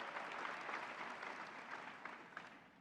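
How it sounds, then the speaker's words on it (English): Steady applause from the audience at a city swearing-in ceremony for elected and appointed officials, a dense continuous patter of clapping that holds evenly for about three seconds at moderate level. "Let's give a round of applause to all of the elected and appointed figures that are here today"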